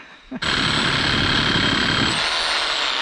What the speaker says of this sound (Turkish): Yeni matkap da iş görüyor ha.